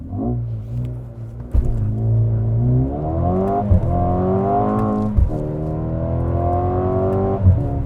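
A 2021 Mercedes-AMG GLA35 launches from a race start, its engine note climbing hard through the gears with sharp breaks at each upshift. The revving is loud and close and carries on for several seconds.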